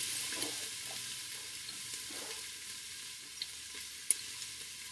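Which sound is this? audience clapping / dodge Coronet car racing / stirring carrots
stirring carrots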